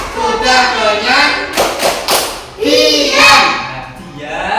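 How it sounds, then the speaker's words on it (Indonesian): Schoolchildren in a classroom chant the 'tepuk ikan' clapping game together, their voices running continuously over a brisk, uneven pattern of hand claps and thumps. "Mari kita bertepuk yang namanya tepuk ikan"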